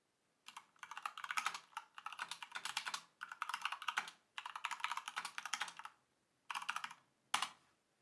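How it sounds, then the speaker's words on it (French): Typing on a Corsair K70 RGB Pro mechanical gaming keyboard with Cherry MX Red switches: close, crisp bursts of rapid key clatter with short pauses between runs, ending in a single sharper keystroke, with no voice. "on a un bruit ou un son, j'ai envie de vous dire, avec ce clavier qui est largement présent"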